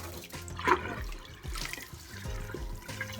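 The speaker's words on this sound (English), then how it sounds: "You just rinse it off afterwards." Water from a tap running over a pineapple being rinsed, an uneven splashing and gurgling stream up close, with a few louder splashes.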